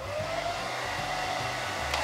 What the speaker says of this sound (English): I'm using my hairdryer just to make the process a little faster